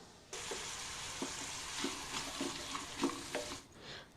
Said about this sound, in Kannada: ಮತ್ತೊಂದು ಸರಿ ಹೀಗೆ ಫ್ರೈ ಮಾಡೋಣ